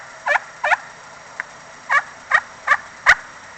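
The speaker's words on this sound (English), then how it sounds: "I've always liked all kinds of slate type calls" A slate-type turkey call held against the leg, played in short scratchy yelps: about seven sharp clucking notes in an uneven rhythm over quiet outdoor background, close and clear with no talking.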